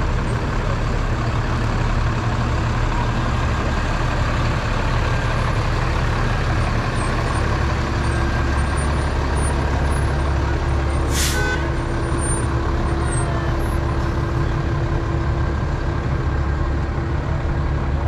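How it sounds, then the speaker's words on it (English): A fire department traffic control unit truck rolls past in a New Jersey state firemen's parade, its engine giving a loud, steady rumble, with a brief hiss of air brakes in the middle and constant street noise all around. "There you go, traffic control unit."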